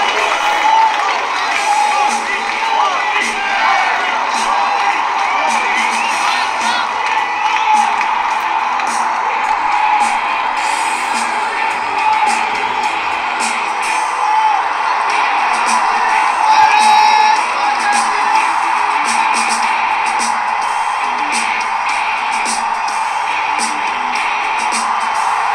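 A studio audience at a live televised interview stands up, applauding and cheering, with dense clapping and crowd noise that keeps going loudly the whole time.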